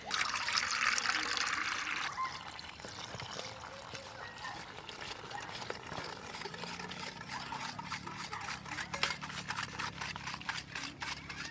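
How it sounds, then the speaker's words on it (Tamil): Water poured from a cup into a pan of readymade halwa mix, a steady trickling and splashing pour that is loudest at the start and then settles into softer liquid sounds, with faint kitchen clatter and no talk. "நம்ம கப்பு தண்ணி ஃபுல்லாக ஊற்றிக்க போகிறோம்"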